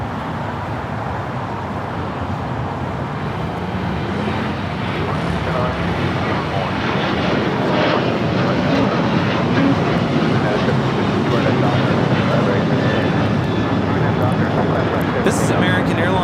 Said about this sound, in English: This is American Airlines 2668 taking off to Nashville, Tennessee on the 737-800.